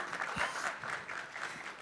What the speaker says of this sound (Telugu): అది చప్పట్లు ఫర్ ఊహా